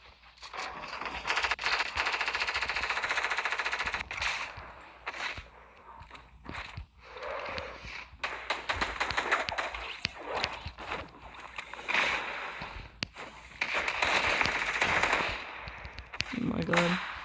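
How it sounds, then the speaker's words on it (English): Rocket launcher firing in a video game, with repeated loud bursts and blasts in irregular clusters across the clip, mixed with rumbling game effects. "I basically have infinite ammo for my rocket launcher"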